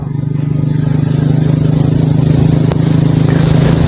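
A 70cc motorcycle drones steadily at close range on a ride near Ormara Beach in Balochistan, its engine hum constant and loud, buffeted by strong wind noise throughout.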